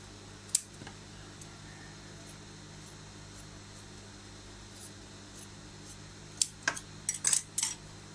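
Scissors trim fabric while a face mask is sewn: one sharp snip early, then a quick cluster of crisp cuts near the end, over a low steady fan-like hum.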